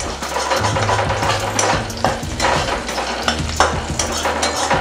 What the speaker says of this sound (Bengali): একটু ভালো করে ভেজে নেবো রসুন কুচিটা।